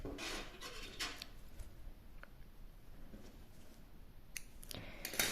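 Scissors snipping the yarn tail of a crocheted piece, a few quick, faint, close cuts with light rustling and rubbing in a quiet room, no talk.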